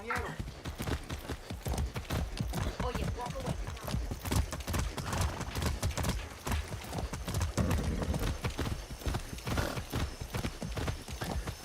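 Horse hooves clip-clop in a steady, rapid rhythm while riding in Far Cry 6, close and continuous, with occasional whinnies and people talking over the galloping.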